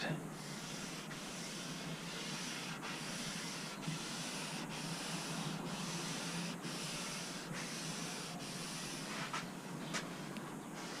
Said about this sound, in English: Then I'm going to rub the excess off with the rag.